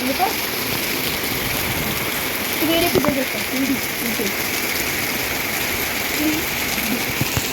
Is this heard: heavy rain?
yes